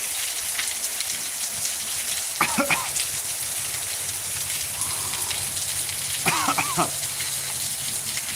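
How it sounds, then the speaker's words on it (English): Steady, heavy rainfall hisses throughout, broken by two brief vocal sounds nearby. "It's raining really good right now."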